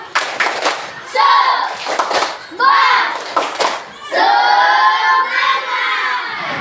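Elementary school children in a classroom perform a rhythmic clapping chant, loud bursts of synchronized claps alternating with shouted group chanting, close and energetic.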